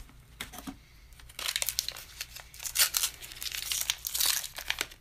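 Taped mail packaging is torn open and unwrapped up close, giving a continuous run of loud crinkling, crackling and ripping bursts that build and fade over a few seconds, with no talking.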